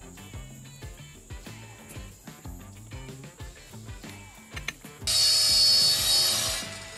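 A Joetisserie rotisserie motor on a grill cooking a matambre-wrapped ribeye kicks on partway through, turning a run of rhythmic mechanical ticking into a loud, steady whirring hiss that holds to the end.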